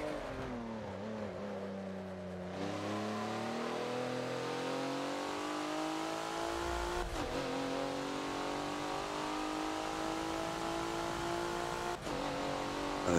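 Race cars lapping the Yas Marina South circuit in the Forza racing game, a close engine revving and climbing in pitch through shifts, with another car audible nearby, steady and loud.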